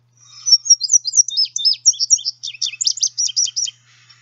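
A songbird of the cardinal, blackbird or finch families sings a clear, rapid song, a quick run of bright chirping notes and warbles delivered close and alone against silence.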